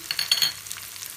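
Crushed garlic hits hot oil in a pan with a quick crackling burst of spitting and sizzling that settles into a quieter, steady fry.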